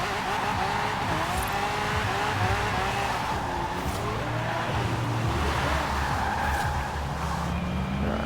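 A car drifting through a lap in Forza Horizon 4, its engine roaring steadily with shifting pitch as tires squeal and skid in long continuous slides, loud and close throughout.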